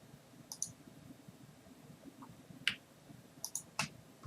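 Several sharp computer mouse clicks come in small bursts over a quiet room tone, close and crisp, with single and double clicks spaced irregularly.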